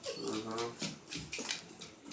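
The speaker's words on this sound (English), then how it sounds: "What are you fucking dogs crying about?" Dogs whimper and cry in soft, high-pitched whines that rise and fall in short, wavering bursts, close by and fairly quiet.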